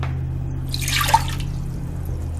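Green-coloured slime mixture is poured into a larger mixing bowl in a brief splashing pour lasting about a second, over a steady low background hum.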